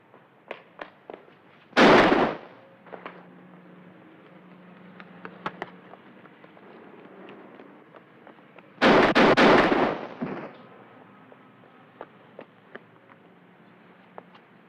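Two bursts of gunfire ring out in a 1957 harbor police TV drama shootout, each volley a loud, dense cluster of shots, separated by quieter gaps with scattered faint pops and clicks.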